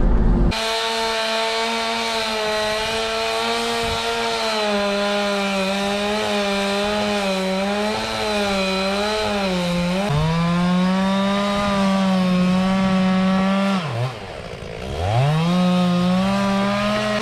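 A chainsaw cuts into a big leaning tree on a farm, the operator standing down in a hole with the saw overhead. The engine roars loud and close with no break, its pitch sagging and climbing as the chain bites, and dipping hard near the end.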